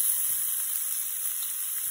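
Onions and other vegetables for shrimp and grits sizzling in a hot pan, a steady bright frying hiss, close and even with no talk.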